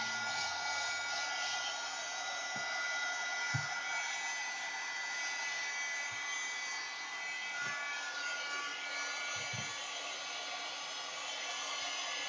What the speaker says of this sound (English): Now we got to go in for a full dry